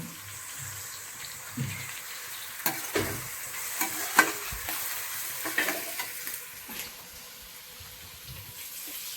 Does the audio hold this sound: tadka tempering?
yes